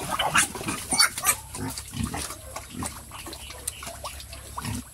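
Native pigs eat boiled bottle gourd mixed with rice at close range, giving wet, sloppy chomping and slurping with intermittent grunts and squeals. The sounds come in uneven bursts, with no speech.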